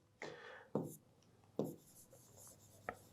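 Marker strokes on a board during an accounting lesson: four distinct squeaky scratches spaced about a second apart, close and fairly clear with quiet gaps between.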